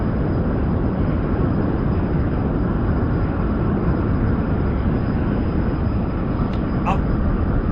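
A Boeing 787 Dreamliner roars steadily through its takeoff roll, a loud, unbroken broadband engine rush with no letup, and a couple of brief higher chirps near the end.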